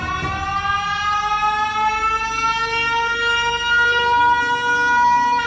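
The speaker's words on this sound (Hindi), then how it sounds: "वो लाल बटन दबा देता है, जिससे एक तेज सायरन की आवाज आती है।" A loud siren set off by pressing a red button, a sustained mechanical wail rising steadily in pitch and holding strong throughout with no talk.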